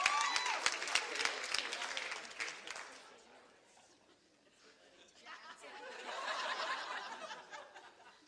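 Audience applause at a live seminar on overcoming fear of snakes: moderate clapping that fades into murmuring and chuckles, then a second, softer swell of clapping and laughter, fairly distant.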